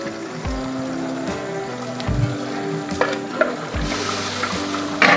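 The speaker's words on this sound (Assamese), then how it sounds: "পানী গল গল গল গলকৈ উতলি আছে।" Duck meat boils hard in a pot of water, a continuous close bubbling and gurgling with occasional louder pops and splashes, no voices over it.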